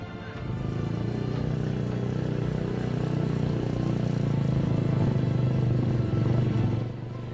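A motorcycle rides along a village road near a gold-mining area in rural Pandeglang, Indonesia, its engine a steady, loud, continuous drone lasting several seconds before easing off at the end.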